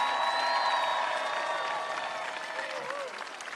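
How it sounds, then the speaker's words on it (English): Applause fills the room at a Tea Party rally, a steady dense wash of clapping that fades slightly toward the end, with a few voices audible in the crowd. "Can we have a round of applause for Jenny Beth Martin and the hard-working Tea Party patriots?"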